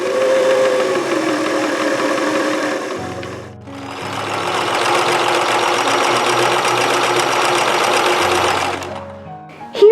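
Slant-foot sewing machine, a 1967 Singer Slant-O-Matic or Kenmore 158, stitching steadily at close range, its rapid mechanical whir running continuously, pausing briefly about a third of the way through, then resuming until a final clunk.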